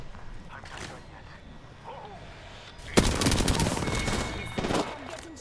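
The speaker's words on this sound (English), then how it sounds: "I'm getting shot at." Bursts of rapid gunfire from Apex Legends erupt after a quieter stretch with faint speech, loud automatic volleys rattling on for a few seconds before easing, with a louder spurt near the end.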